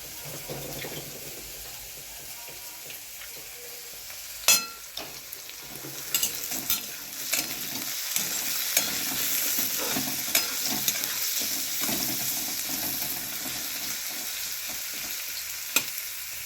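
Steady oily sizzle of potatoes frying with a little turmeric and salt, broken by occasional scraping stirs and a few sharp clinks of a utensil against the pan.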